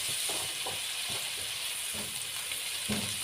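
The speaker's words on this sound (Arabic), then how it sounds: "مع البصله لما تكون بتحاول تشوح كده على البوتاجاز" Onions sizzle and fry steadily with black pepper in a pan on a gas stove, a continuous close hiss broken by soft stirring scrapes.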